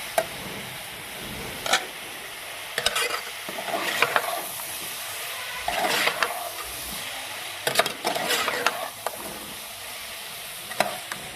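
A cabbage, peas and potato sabzi sizzles in the pan while it is stirred, with quiet frying broken by repeated scraping bursts at irregular intervals.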